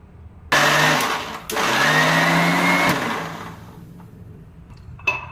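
A mixer blender spinning watermelon juice with sugar and black salt, roaring loudly in two close bursts, the motor pitch climbing during the second run before it winds down, followed by small clinks.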